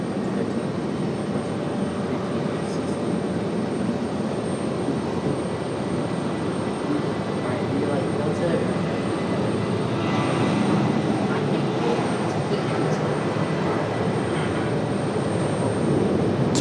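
A Southwest jet airliner departs from Raleigh-Durham in the evening with a continuous engine roar that swells slightly toward the end, heard at a distance with no talking.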